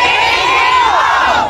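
A large crowd of Filipino rally-goers in The Hague, Netherlands shouts back in unison, a loud, sustained roar of voices that swells and holds throughout.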